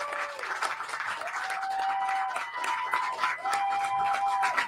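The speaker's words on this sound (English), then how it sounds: "Let us give you a round of applause." Applause for veterans at an evening community open meeting in Texas, a steady room-wide patter of clapping hands that stays fairly even for several seconds, with faint voices and a whistle-like tone drifting through.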